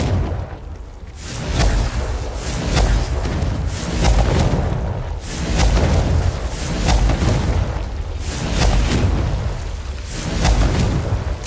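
Confringo fire spell explosions in Hogwarts Legacy, a run of loud booming blasts with whooshing bursts arriving about every second or two over a continuous roaring rumble.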